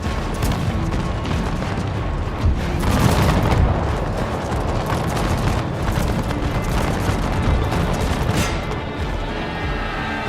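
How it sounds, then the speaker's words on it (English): Dense, continuous musket fire in the video game Napoleon: Total War, a loud, sustained crackle of many overlapping shots and booms during an Enlightenment-era battle, with no talk over it. "Our men continue to fire upon the French regiments."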